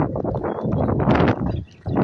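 Outdoor wind buffets the microphone in loud, rumbling gusts that swell and fade, briefly dropping away near the end before picking up again.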